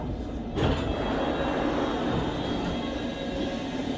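A London Underground Circle Line train at High Street Kensington gives a loud rumbling roar that surges after a sharp onset and then holds steady, with no talk.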